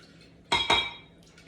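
Two quick clinks of a utensil against a bowl as diced red onion and Roma tomato are folded in, close and crisp, then a faint soft rustle.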